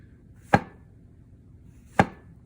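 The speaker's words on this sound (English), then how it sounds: "Cut up mushrooms." A knife chops through mushrooms on a cutting board while an omelette is being made, giving two sharp, close chops about one and a half seconds apart, with no talking.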